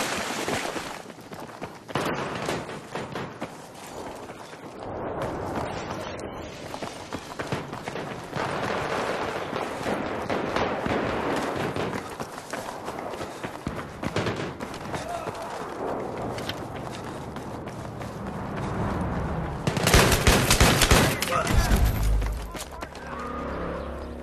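Battlefield 3 close-quarters gameplay with P90 submachine gun fire in rapid bursts mixed into a dense, continuous clatter of battle noise, with a louder stretch near the end and a person talking over it.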